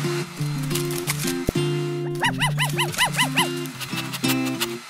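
A dog in the Roblox game Brookhaven gives a quick run of about seven short, bright yaps in a row, set against steady background game music.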